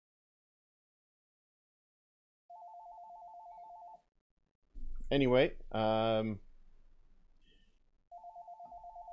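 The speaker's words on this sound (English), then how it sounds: "apologies for the phone ringing in the background" A telephone rings in the background in two bursts of rapid electronic trilling, moderately loud and separated by a few seconds, with someone speaking briefly between the rings.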